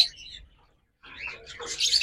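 A pair of Turkish blue opaline pet birds chirp close by in short high tweets, one brief burst, a pause of near silence, then a busier run of twittering calls.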